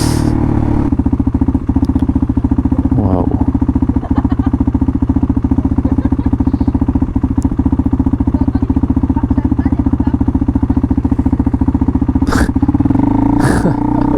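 A motorcycle pulls away on cobblestones and rides on, its engine droning steadily and loud throughout, with rumbling thumps and clatter from the rough paving and a rev change near the end.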